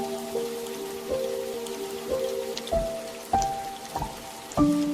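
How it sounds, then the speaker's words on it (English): Rain falling steadily in a forest, a soft continuous patter with scattered drips and a few faint ringing tones over the top, with no voices. "Rain poured from the sky."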